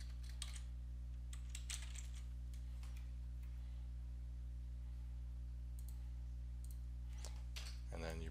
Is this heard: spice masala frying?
no